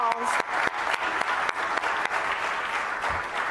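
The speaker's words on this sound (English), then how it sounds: "Can we give her an extra round of applause?" A round of applause from the audience for a singer at a women veterans celebration in DeKalb County, steady dense clapping with a few sharp individual claps standing out, no talk over it.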